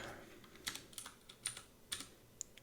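Values being typed into a computer keyboard while laying out step-down regulator footprints in KiCad: a handful of close, crisp keystrokes, spaced irregularly over quiet background.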